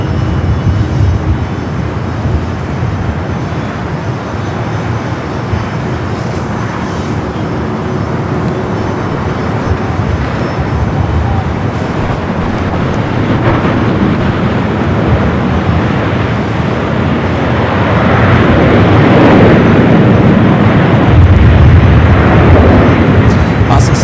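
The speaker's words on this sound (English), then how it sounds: "747-400 freighter, your next arrival on 25 left" A Boeing 747-400 freighter arrives on runway 25 left at LAX: a steady, broad jet roar that holds for the whole stretch and swells louder toward the end.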